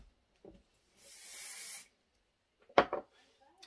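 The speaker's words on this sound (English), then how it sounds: "So I just do a light spray." Spray adhesive hisses from an aerosol can in one short, light burst of under a second onto fabric for embroidery applique, fairly close and moderately loud, followed by a couple of soft handling knocks.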